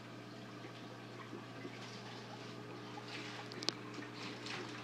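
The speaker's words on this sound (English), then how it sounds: "waterfall bubbler is here." A waterfall bubbler in a home fish tank runs continuously, with soft trickling and splashing water over a steady low pump hum, faint and even throughout.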